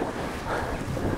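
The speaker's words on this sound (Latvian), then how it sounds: "sākās brauzmains vējš, 7 metri sekundē" Gusty wind on a lake, about 7 metres per second, roars steadily across the microphone as a dense, loud rush with no pause.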